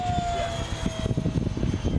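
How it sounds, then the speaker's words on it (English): A fast ME-262 jet streaks overhead past a formation of model aircraft at a flying field, its engine a loud, rough roar with a descending whine as it passes, fluttering and steady over the two seconds. "That must be the ME-262. We got a real fast jet flying overhead."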